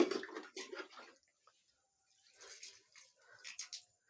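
Water is poured out as a devotional offering in several short splashing bursts. There are quiet gaps between the bursts, and no one speaks.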